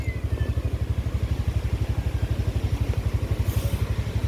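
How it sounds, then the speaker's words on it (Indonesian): A motorcycle engine idling nearby with a steady, rapid putter as it is parked at a mosque; a brief higher whine appears near the end. "Nah ini parkir motor di kiri ini saja kita parkirnya."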